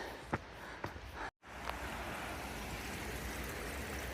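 A mountain stream flows along the Ramsey Cascades Trail in the Great Smoky Mountains, a continuous broadband rush with a few brief knocks early on and a short dropout before the water noise resumes.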